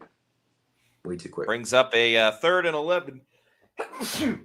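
A sharp sneeze near the end, right after a stretch of football commentary from a Bucs versus Patriots broadcast, short and close.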